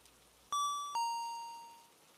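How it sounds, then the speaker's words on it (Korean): A two-note ding-dong bell chime rings once, clean and fairly close, then fades slowly into near silence, used as an effect in a horror radio story. "종소리가 울리는 겁니다."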